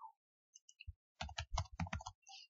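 Java code typed on a computer keyboard: sparse key taps at first, then a quick, close run of crisp clicks and clacks, with no talking.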